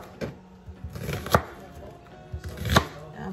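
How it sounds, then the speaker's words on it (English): A knife cuts through an onion on a board in a few sharp, separate chops with quiet pauses between them, close by and moderately loud over faint room noise. "all I did was slice the onion in half"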